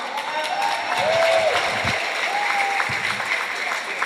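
A crowd applauds steadily at a Kennedy Cup high school hockey game between Fenwick and St. Ignatius. Cheers and whistles are mixed into a dense, continuous wash of clapping.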